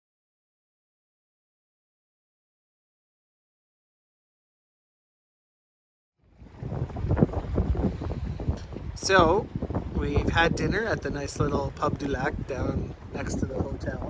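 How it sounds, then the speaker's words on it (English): Gusty wind buffets the microphone with low rumbling bursts while a person talks close by on a trip in New Brunswick; the wind roar persists under the speech throughout. "Excuse the wind, I'm sure it's windy"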